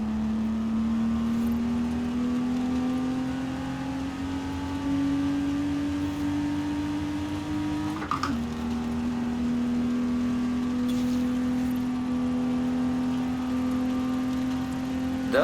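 Engine note of a Lego Porsche driven in Forza Horizon 4, a steady close drone whose pitch creeps upward, then dips briefly after a short knock and climbs again, with no talking.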